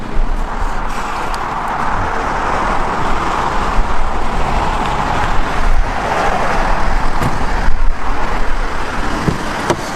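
A new BMW M3 driving along a road, heard from inside as a loud, steady rumble of engine and tyre roar with wind noise, rising and easing slightly, with no talking.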